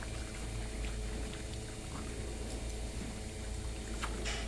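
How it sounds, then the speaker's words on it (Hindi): Water runs and pours steadily while a cow drinks on a farm, a continuous close splashing flow filling the whole stretch with no talk. "सोफिया, पानी वेस्ट हो रहा,"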